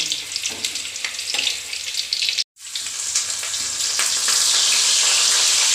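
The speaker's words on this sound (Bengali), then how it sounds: "প্রত্যেকটা এরকম বাদামি কালারে ভেজে নেবো ফুলকপিগুলো" Cauliflower florets frying in oil in a kadai until browned for a cauliflower roast, giving a dense, steady close-up sizzle that cuts out briefly midway and then returns stronger.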